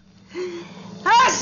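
A sitcom character sneezes, a short, loud, close burst after a brief high inhale, with a voice sounding around it.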